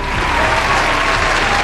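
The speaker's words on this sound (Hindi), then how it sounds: "कागजी विकास के जादुई भाषण के बाद पब्लिक तालियां बजाने लगी।" Thick, continuous applause from a large public crowd after a chief minister's speech at an event marking two years in office, loud and close throughout the short burst.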